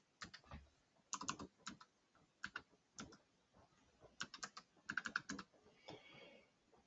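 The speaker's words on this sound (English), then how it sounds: "or I'll type it in so you can see the digits change." Digits typed on a computer keyboard into a field on a demo site: irregular bursts of sharp, close key clicks in short clusters with brief pauses, fairly quiet, with no talking.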